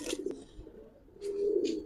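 Giribaz pigeons, a traditional Old Dhaka breed kept by a seller, give a soft low cooing that swells toward the end, with a few brief higher bursts of bird calls mixed in, fairly quiet and without talk.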